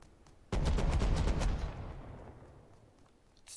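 Heavy gunfire in the video game Rust near a river: a sudden loud burst of rapid automatic shots rattling for about a second, then a long booming tail that rolls off into distance, with no talking.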